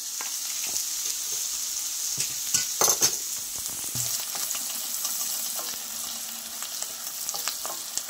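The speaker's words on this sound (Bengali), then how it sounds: "পেঁয়াজটা একদম আমি ভাজা ভাজা করে নিয়েছি।" Onions fry in a pan for a shrimp bhuna, a steady close sizzle with crackling bubbles throughout and a few scraping stirs of a utensil partway through.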